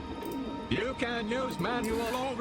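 Pigeons coo in the video game Dreamfall Chapters, soft warbling calls repeating over game music and ambient sound.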